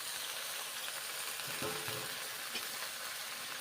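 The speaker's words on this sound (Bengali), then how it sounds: "এখন ঢ্যাঁড়সগুলো এবারে দেবো, ছেড়ে দেবো কষা মশলার সঙ্গে" Okra goes into a fried spice paste in a pan over a low gas flame, producing a faint, continuous sizzle with light stirring clicks.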